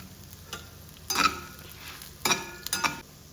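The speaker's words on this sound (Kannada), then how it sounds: "ಪ್ಯಾನಲ್ಲಿ ಸ್ವಲ್ಪ ಎಣ್ಣೆ ತಗೊಂಡು ಮೆಣಸು ಮತ್ತು ನಾನು ಇದ್ದದೆಲ್ಲ ಒಟ್ಟಿಗೆ ಹಾಕ್ತಾ ಇದ್ದೇನೆ" Pepper and spices fry in oil in a pan, a soft background sizzle broken by a few short bursts of stirring and scraping, close and with no talking.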